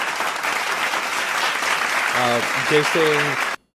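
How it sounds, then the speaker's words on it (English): A small audience applauds to greet Jay on a basketball podcast, a steady patter of clapping with a voice speaking briefly over it before the sound cuts off abruptly. "Let me get Jay's applause as well."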